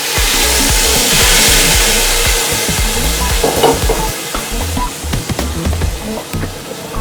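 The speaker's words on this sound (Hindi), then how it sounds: "ये सब डालकर हम इसको फ्राई करेंगे थोड़ा सा।" Tadka of spices and chopped green chillies sizzles loudly in hot oil for kadhi pakora, with a continuous frying hiss broken up by repeated scraping and stirring clatters from close by.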